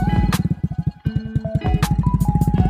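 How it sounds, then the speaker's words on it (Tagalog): A motorcycle passes close by with a short, rough, rapidly pulsing engine note that dips briefly, then picks up again. "Wait lang guys, Wait, may dadaan na papadaan motor."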